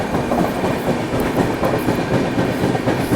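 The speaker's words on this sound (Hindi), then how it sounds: "यहाँ पर हम अभी ओवरटेक कर रहे हैं रानी कमलापति रीवा एक्सप्रेस को" A Duronto Express train overtakes the Rani Kamlapati Rewa Express, heard from inside the moving train as a loud, continuous rumble with dense clickety-clack from the wheels and no talk.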